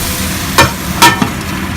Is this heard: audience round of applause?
no